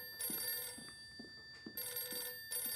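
An old-style telephone bell rings in two bursts of bright, rapid trilling separated by a pause, with soft footsteps or thuds underneath.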